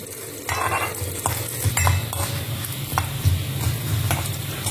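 Urad dal and a single dried red chilli roasting in a hot pan, a steady sizzle with repeated scraping and stirring strokes close by, no voices.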